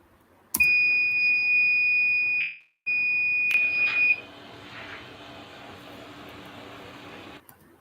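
Electronic beeps from an ultrasonic-sensor water level alarm: a sharp click, then a steady high-pitched tone that cuts out briefly, resumes, and stops, leaving faint background hiss.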